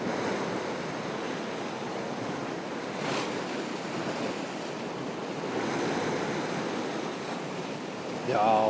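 Steady wind rushes over rolling sea swell and surf at a fishing spot, a continuous broadband roar with slow surges, loud and close, with a brief brighter rustle near the end.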